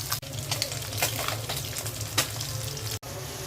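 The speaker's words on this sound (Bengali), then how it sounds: "পাবদা মাছগুলো আমি ভেজে নিলাম।" Pabda fish frying in a pan of oil, a steady close sizzle with scattered crackles and a couple of soft utensil knocks, no talking.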